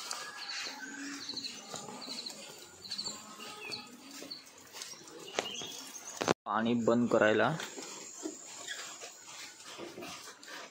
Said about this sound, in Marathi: हा आमचा कुत्रा